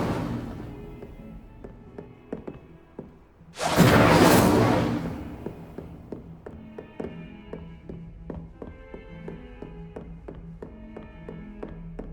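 An Incendio fire spell is cast in Hogwarts Legacy, a loud roaring whoosh of flame that bursts for about a second amid light tapping footsteps and small knocks.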